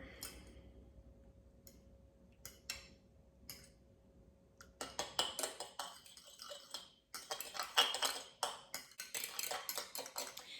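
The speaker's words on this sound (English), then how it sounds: "I'm going to stir these up a bit." A utensil stirs food in a bowl during egg-based meal prep, at first sparse clinks and taps, then quicker, louder scraping and clattering strokes in an irregular rhythm, with no talk.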